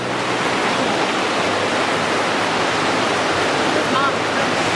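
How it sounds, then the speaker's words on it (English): River water flows steadily in Iao Valley on Maui, Hawaii, a continuous broadband rushing that stays loud and even throughout, with no distinct splashes. "We walked down to the river"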